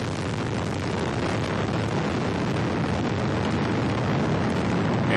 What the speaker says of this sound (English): Ignition and liftoff of the Delta II rocket carrying WorldView II, the most agile commercial imaging satellite ever flown.